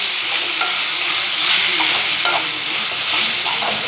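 Onion mixture with coriander leaves being sautéed in a pan, a steady sizzle of frying with scattered stirring scrapes, close and fairly loud throughout, no voices.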